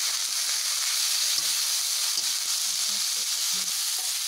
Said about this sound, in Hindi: और जो थोड़ा सा नमक बचा है उसको हम डाल लेंगे इसमें, ऐसे अच्छे से चला लेंगे।